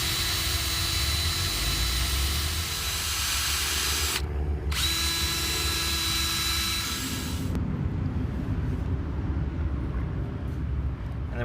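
A power drill pre-drilling a screw hole in a BMX kicker ramp being built in a hardware store car park, a loud steady whine with a brief pause, then running again before the bit stops.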